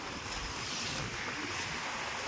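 Sea waves on the Konkan coast wash in a steady, continuous broadband rush, with wind buffeting the microphone throughout and no voices.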